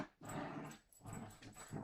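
Dogs growling and grumbling in low, rough bursts with a brief pause midway, fairly close and loud, no talk over them.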